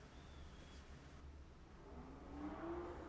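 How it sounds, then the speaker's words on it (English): A car engine rumbles faintly in the distance, its pitch rising as it revs and swells louder near the end. "Who the hell is out there revving their goddamn engines"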